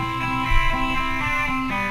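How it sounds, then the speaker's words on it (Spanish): Distorted electric guitar loop taken from a sample pack for a track, playing steady sustained chords with a slight swell midway, loud and alone with no voices. "Y la guitarra suena así."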